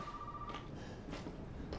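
A telephone rings in the horror video game Resident Evil 7, a steady electronic ring over a low rumbling ambience, moderately quiet and heard alone without speech.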